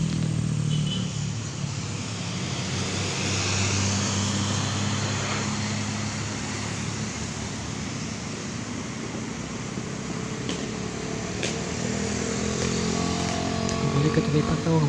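Cars and motorcycles travel a mountain road on the Bandung–Malangbong route, making a steady, moderately loud traffic rumble with passing engines and a continuous mechanical hum, while someone talks over it.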